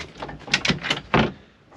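Bifold door in a Swift six-berth motorhome kitchen being opened, a close run of quick plastic clicks and rattling slides in short bursts, ending with one firmer knock as the panels fold.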